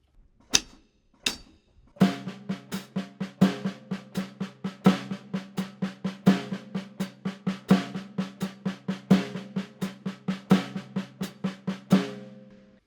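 A drum kit plays a steady, rolling double paradiddle groove in 6/8 with a jazz feel, with sharp regular accents and crisp hits, close and alone.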